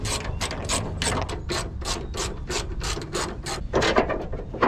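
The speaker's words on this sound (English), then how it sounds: "we can just take off the four 10 millimeter bolts on each side" A hand ratchet backs out 10 mm bolts on a Nissan Gloria, clicking in quick, evenly spaced bursts close to the ear. Louder, scraping strokes come near the end, and nobody speaks.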